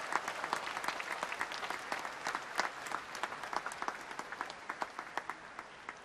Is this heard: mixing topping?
no